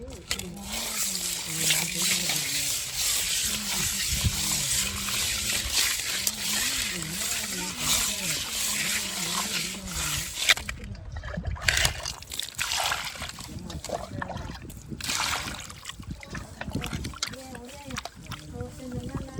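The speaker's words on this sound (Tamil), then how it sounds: "மீனை உலசி உலசி ஒரு மூணு வாட்டி நாலு வாட்டி கழுவணும்" Fish for a home-cooked fish curry being washed and rinsed by hand in water, repeated sloshing and splashing close by, under steady talk throughout.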